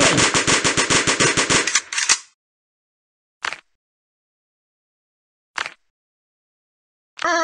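Rapid automatic gunfire from the video game Kick The Buddy rattles loudly for about two seconds, followed by three isolated single shots spaced well apart, with no talking.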